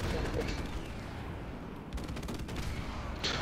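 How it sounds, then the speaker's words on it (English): An airstrike in Modern Warfare Remastered, with rumbling blasts and rapid gunfire crackle in a thick, continuous barrage, and player voices faintly mixed in. "there's an airstrike going that back way"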